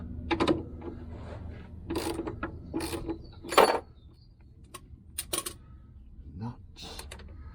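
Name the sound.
ratchet undoing differential mounting bolts on a 1973 Triumph Stag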